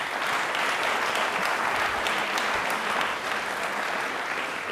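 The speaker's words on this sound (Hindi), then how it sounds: "तालियां हो जाए जोरदार प्लीज।" Dense, even clapping from a studio audience on a Rajasthani television general-knowledge quiz show, loud and sustained without a break and fading slightly at the end.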